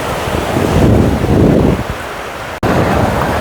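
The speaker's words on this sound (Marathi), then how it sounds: "हा समुद्र किनारा आहे" Sea waves washing onto the sandy beach at Murud near Dapoli, a loud rushing surge heavily buffeted by wind against the microphone, cutting out for an instant near the end.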